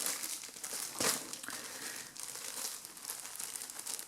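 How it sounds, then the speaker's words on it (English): Plastic packaging is shifted and crinkled up close, giving quiet, irregular crackling and rustling with one sharper crunch, no voices over it. "Let's move some plastic."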